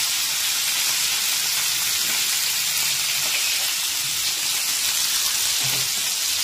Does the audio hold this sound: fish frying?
yes